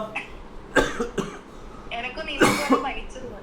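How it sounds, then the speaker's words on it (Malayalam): A few sharp coughs come in short bursts, close by, amid some background murmur. "ചുമയുണ്ടോ"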